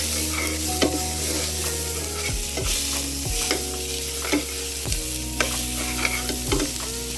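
A marinated pork chop sizzles loudly in a frying pan, a constant close crackle broken by several dull scraping and stirring knocks.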